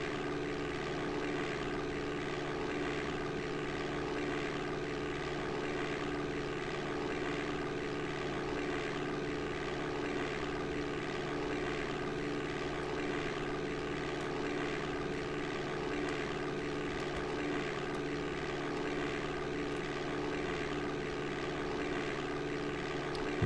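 Propeller airplane engine from the DOS game Flight Simulator 5.1, a steady droning hum that holds at an even level throughout, with no speech over it.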